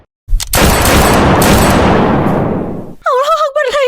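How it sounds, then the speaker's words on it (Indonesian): Gunfire echoing through a hall in a Roblox Squid Game round: a loud, dense burst of rapid shots rings out and reverberates for nearly three seconds before it decays. A voice then starts speaking close by. "Suara tembakan menggema di seluruh aula,"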